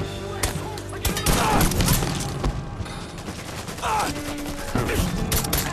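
Rapid gunfire bursts and single shots from a Mafia III shootout crack repeatedly over a busy combat soundscape, loud and near, with a voice briefly talking amid the firing.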